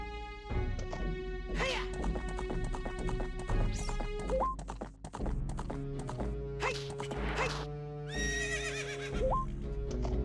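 Horse neighing and whinnying in the Zelda game Sands of Time, several loud calls over a steady game music bed, with clip-clop hooves and a crash mixed in.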